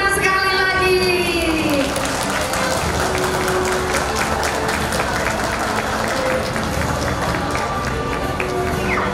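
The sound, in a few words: audience applause at graduation ceremony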